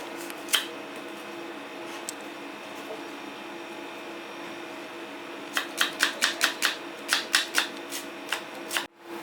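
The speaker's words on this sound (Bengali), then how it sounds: "ফ্রাই প্যানটা গরম হোক ততক্ষণ আমি পেঁয়াজটা কুচিয়ে নিচ্ছি" A kitchen knife chops an onion on a board while a frying pan heats, giving a quick run of sharp, close taps after a quiet stretch of steady background hum.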